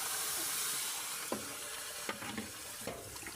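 Hot water poured into a pan of sautéed cauliflower curry, a steady hiss and splash that runs close and moderately loud, then breaks into a few short gurgling bursts as the pouring trails off.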